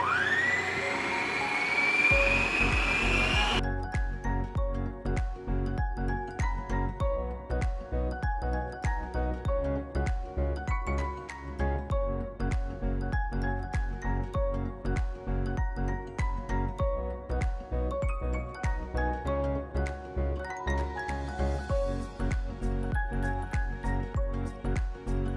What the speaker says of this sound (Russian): Включаем миксер на высокую скорость.